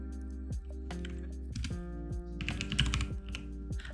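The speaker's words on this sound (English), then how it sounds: "Oh, I'm even typing stuff." Computer keyboard typing during a game development session, quiet clusters of key clicks in an uneven rhythm with short pauses, close and faint, no voices.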